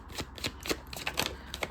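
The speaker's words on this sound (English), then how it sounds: "let's give this one last good shuffle for you here" A deck of tarot cards being shuffled by hand, a rapid run of crisp riffling flicks and snaps at close range, fairly quiet and alone.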